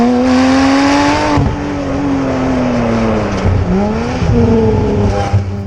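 A 2020 Porsche 718 Spyder fitted with an aftermarket exhaust, its engine note rising and falling through several revs, loud and close with a throaty drone throughout.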